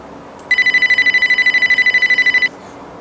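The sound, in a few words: telephone ringing for an incoming call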